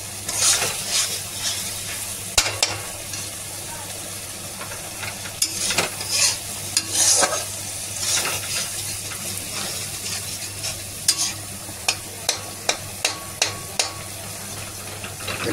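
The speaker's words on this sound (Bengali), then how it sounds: "সুন্দর করে কষাবেন।" Food being stir-fried (kosha) in a pan, with a steady sizzle and repeated scraping and stirring strokes, plus sharp utensil clicks toward the end, with no talking.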